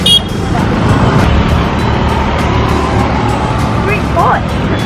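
Street traffic on the road between Baga and Candolim in Goa, with auto rickshaws among the cars and buses, a steady roadside engine rumble with a brief horn near the end and voices talking over it.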